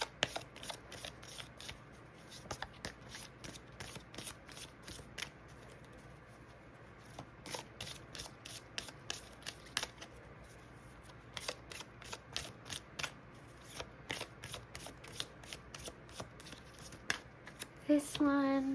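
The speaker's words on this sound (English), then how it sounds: "So I'm going to give these a good shuffle and pull them for you." Fairy oracle cards are shuffled by hand in a quiet room, a long run of crisp, rapid riffling bursts with short pauses between them, up close and fairly soft.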